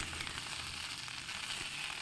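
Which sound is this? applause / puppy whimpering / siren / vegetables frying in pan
vegetables frying in pan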